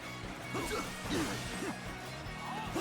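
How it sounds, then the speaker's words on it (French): Crashing impacts and swooshes from a battle in the video game Dynasty Warriors Origins come as a few quick, fairly faint bursts over a low background wash, with no one speaking. "Ah et puis alors ça explose hein"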